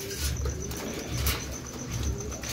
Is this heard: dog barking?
no